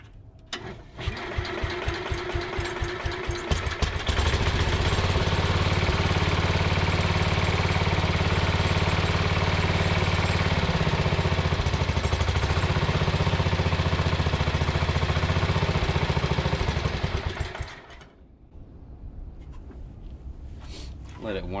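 Antique Sears Suburban 12 garden tractor engine running steadily and loudly while the carburetor is tuned, a continuous close mechanical drone with speech over it before it cuts off sharply near the end.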